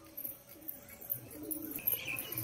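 Domestic pigeons with white eyes, kept in a backyard loft, give soft cooing and faint chirps amid low outdoor background noise, with no voices.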